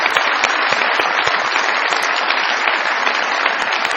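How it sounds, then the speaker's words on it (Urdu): A studio audience on a comedy talk show claps loudly and continuously to welcome a guest, a dense, even wash of applause with no pauses. "بہت ساری تالیوں میں ویلکم کیجیے گا"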